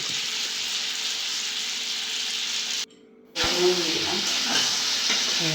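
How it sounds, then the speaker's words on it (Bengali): A Bengali-style chicken curry with plenty of oil and added hot water is stirred in a pan, giving a continuous bubbling sizzle and hiss, briefly cut off, then returning with scraping stirs. "নাড়াচাড়া করছি এবারে"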